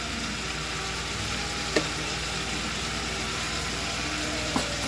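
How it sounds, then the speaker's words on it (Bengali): Vegetables fry in a pan with a steady, even sizzle for a vegarian Saturday dal dish, the crackle constant and moderately loud, with two brief utensil clinks against the pan. "সবজিটাকে ভালো করে ভেজে নিব।"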